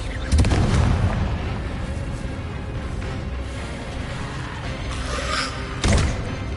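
Spell blasts from Confringo in Hogwarts Legacy, a loud booming explosion near the start and another sharp burst toward the end, over a dense rumbling game soundscape.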